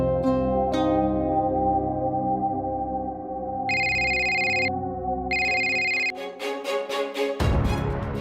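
A phone rings in two long electronic bursts over a steady background tone, followed by a few quick clicks and rustles.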